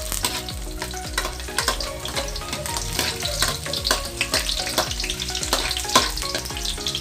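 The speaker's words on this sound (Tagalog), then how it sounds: "Pag mainit na ang oil, magigisa na po tayo ng garlic." Garlic sautéing in hot oil in a pan, a steady loud sizzle broken by the clatter of a utensil stirring at a regular rhythm, with no voices.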